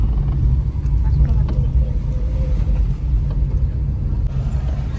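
Steady low rumble of a car driving along the road with a family riding inside, engine and road noise filling the cabin continuously and fairly loud, with faint movement sounds but no clear talk.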